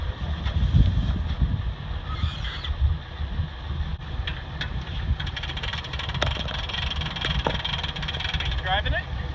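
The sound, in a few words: motorboat driven up onto trailer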